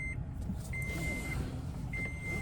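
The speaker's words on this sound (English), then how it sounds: "Put the seatbelt on, stop from beeping." A car's seatbelt warning chimes repeatedly in long, evenly spaced electronic beeps over the low rumble of the running engine.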